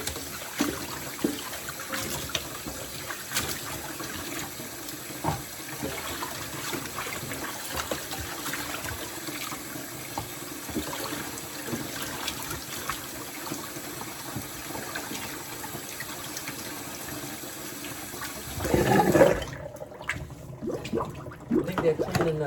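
Tap water runs steadily while freshly harvested squash and cucumbers are washed, a continuous trickle with splashes under intermittent talk, ending in a brief louder gush before the flow stops.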